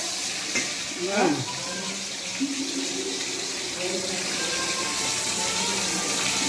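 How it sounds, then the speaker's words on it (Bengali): Hilsa fish heads fry in hot oil with a continuous hiss and crackle, a brief louder spatter early on, and a faint voice in the background. "মাথাগুলো ভাজা হয়ে গেল"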